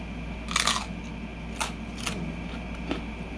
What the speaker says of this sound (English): So let's see how crunchy it is.